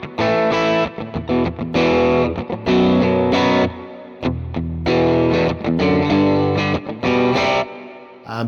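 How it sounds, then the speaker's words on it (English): Electric guitar on its bridge pickup through a captured Morgan AC20 amp at edge of breakup, lightly driven, playing loud strummed chords and short riffs with brief pauses, alone and close. "On the bridge pickup, you'll really hear it kind of dig in and be more driven."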